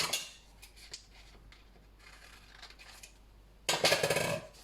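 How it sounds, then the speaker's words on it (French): Small scissors snip through a little paper label in a few light, crisp cuts, then a louder rustling handling sound near the end, all close and quiet with no talking. "Je coupe ma petite étiquette"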